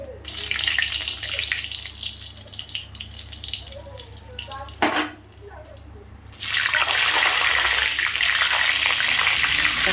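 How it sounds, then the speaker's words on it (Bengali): Whole cardamom and dried chillies hit hot oil with a loud, steady sizzle. It fades briefly, then returns as a strong, continuous crackling hiss close to the pan. "আমি এখানে গোটা এলাচ আর গোটা শুকনো লঙ্কা ফোড়নে দিচ্ছি"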